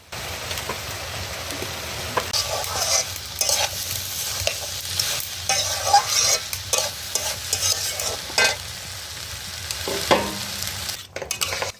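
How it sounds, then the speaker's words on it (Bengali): Chopped onions stirred and sautéed with spices in a pan for a crab, Malabar spinach, potato and pumpkin chorchori, with continuous busy scraping, clinking and sizzling close up, then a brief quieter moment. "পেঁয়াজটা দিয়েও আবার ভালো করে একটু নেড়েচেড়ে নেওয়া হবে"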